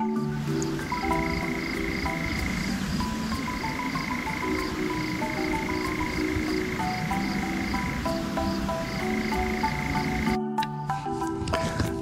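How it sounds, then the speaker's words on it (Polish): A European nightjar churrs from a forest at night near Pustynia Kozłowska, giving a long, steady mechanical trill that breaks off briefly and resumes, heard at a distance over a constant low background hum. "Ale z tamtego lasu odzywa się lelek kozoduj."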